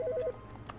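A telephone rings in The Stanley Parable video game, a short warbling trill of three quick pulses up front that then stops, leaving a faint low hum and a few soft clicks.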